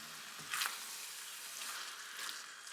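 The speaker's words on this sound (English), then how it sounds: "I'm going to stir that around." A chicken and wild rice casserole mixture with plain milk is stirred in a pan, faint wet sizzling and soft squishing with a brief louder scrape near the start, low and steady throughout.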